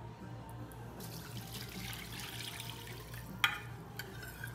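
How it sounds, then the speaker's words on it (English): About three cups of water are poured into a pot of mixed rice, a quiet continuous trickle and splash ending in a brief clink and a few faint drips. "We're going to add about 3 cups of water."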